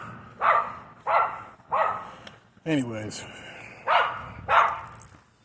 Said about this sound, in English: I just hate dogs when I'm like walking around and like they start barking out of nowhere